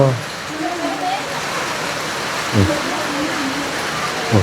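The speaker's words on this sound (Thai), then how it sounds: "บรรยากาศฝนตกไปหน่อยเนาะ" Steady rain falls outdoors in rural Thailand, a constant broadband hiss throughout, with a few brief low knocks and voices in the background.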